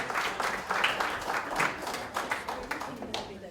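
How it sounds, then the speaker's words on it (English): An evening audience applauds after a presentation on sacred geographies of India and the US, with steady, moderately loud clapping throughout and a voice speaking over it. "One more round of applause."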